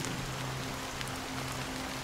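Rain falls in the video game Honkai: Star Rail as a dense, steady patter on surfaces, with a faint low hum running under it and no speech.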